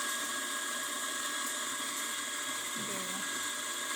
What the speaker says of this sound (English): I'm just going to show you that the grinder is working